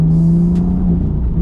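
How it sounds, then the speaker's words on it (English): BMW M2 engine holding a steady, loud rev with a droning exhaust note, deep harmonic tones sustained throughout, close and continuous with no talking. "As I said again, that exhaust is beautiful."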